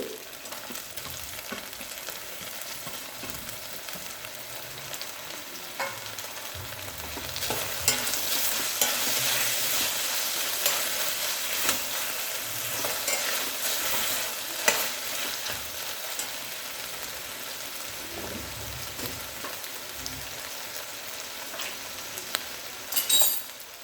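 Tomatoes added to a pan of frying vegetables for vegetable dum biryani sizzle steadily while a utensil scrapes and clinks against the pan in repeated stirring strokes.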